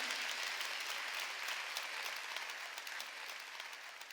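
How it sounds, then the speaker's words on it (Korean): A Korean church congregation at a Sunday worship service claps together in a continuous, even wash of applause that stays fairly steady and slightly softens toward the end, with no talking over it. "믿으면 박수를 치며 하나님께 합니다."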